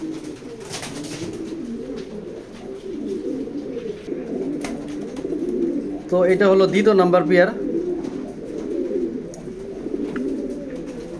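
Racing pigeons coo in a loft, with soft throaty calls scattered through the clip and a louder, rolling burst in the middle, while someone talks over them.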